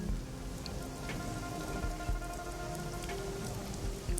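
Steady rain in Shadowrun Hong Kong, a continuous dense patter of drops with occasional louder splashes, heavy and even throughout.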